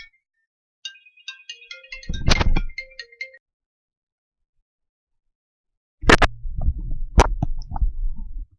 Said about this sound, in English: Alright, phone call.